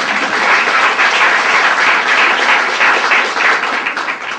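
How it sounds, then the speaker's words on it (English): A loud, close round of applause from a marketing-talk audience, many hands clapping in a dense, continuous roar that stays full for about four seconds before easing slightly at the end. "let's have another round of applause"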